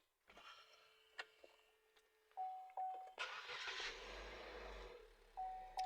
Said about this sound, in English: So you can equally start the car as well.